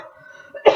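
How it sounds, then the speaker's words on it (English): One short, loud cough lands near the end, close to the mic, after a quiet stretch of low room hum. "I am so sorry for coughing"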